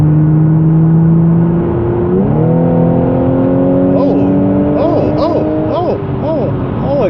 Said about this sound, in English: Oh, it sounds good when it revs.